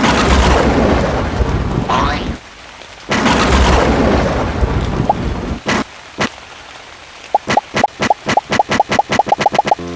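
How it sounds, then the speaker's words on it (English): Cartoon thunderstorm from a summoned rain cloud: steady rain hiss with thunder crashes, a short lull, then more rain and sharp cracks, ending in a rapid run of regular clicking hits. "I'm gonna summon a rain cloud."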